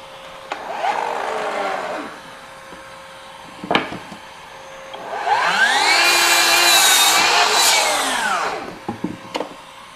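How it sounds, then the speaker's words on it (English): A FLEX 24V brushless 12-inch dual bevel miter saw spins up and makes a through cut in wood, preceded by shorter bursts of blade whine and clicks, the long loud cut rising and falling as the blade winds down, close up with no talk. "I just flip that open and now I can make my through cut"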